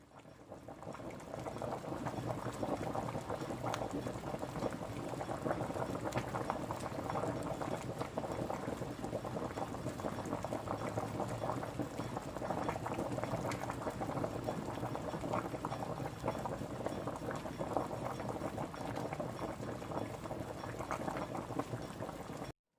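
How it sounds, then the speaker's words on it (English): A pot of 15 bean ham bone soup with turkey tail bubbles at a steady boil, a faint, continuous simmering hiss with soft pops throughout. "the beans have been boiling about 2 hours now"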